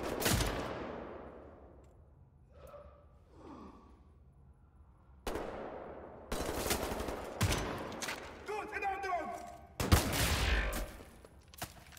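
Gunshots in Wolfenstein: The New Order ring out as sharp, loud cracks with echoing decay, some isolated and some in quick clusters, alongside faint breathy vocal sounds.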